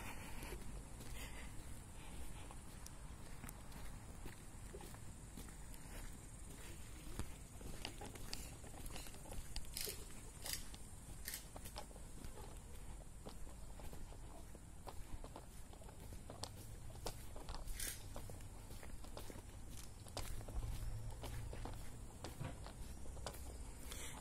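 Footsteps crunch and squelch steadily along a slushy riverside path after heavy rain, a faint, regular patter of walking heard up close over quiet outdoor ambience.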